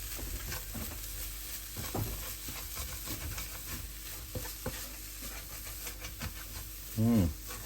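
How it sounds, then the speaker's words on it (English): Lentils and spices being stirred in a pan over low heat give a soft continuous scraping and gentle sizzle, close but fairly quiet, with a few brief clatters of the spoon and no talking. "mixing the spices in there, making sure that the lentils are taking the spices and absorbing them"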